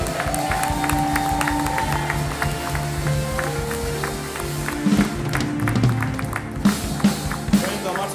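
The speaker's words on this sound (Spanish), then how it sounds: "Un fuerte aplauso a la presencia de Jesús." A church congregation claps loudly and continuously during a live worship service, with sustained musical tones and voices mixed under the dense clapping.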